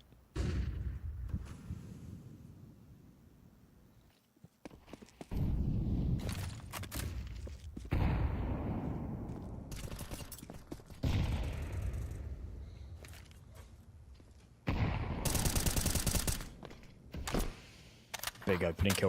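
Gunfire from pistols in PUBG Mobile during a grand finals esports match, with bursts of sharp shots and clattering footsteps mixed under continuous excited commentary from casters.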